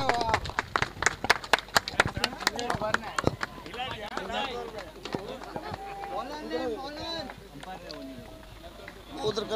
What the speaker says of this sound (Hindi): इसलिए जोरदार ताली अमित भाई के लिए हो जाए